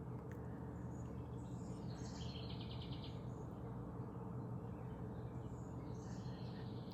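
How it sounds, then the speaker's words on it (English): A bird calling outdoors in the woods on a fair day, a few faint, shrill, repeated chirping phrases in the distance over steady low background hum. "It's the only bird call that I can think of that's super annoying."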